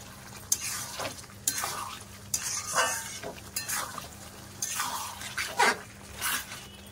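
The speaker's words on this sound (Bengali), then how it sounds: "এবারে একটু নাড়াচাড়া করে নেব, দিয়ে ভালো করে কষবো।" Mutton being stirred and fried in a pan gives a soft, steady sizzle with intermittent scraping stir strokes every second or so, close and fairly quiet, with no talk.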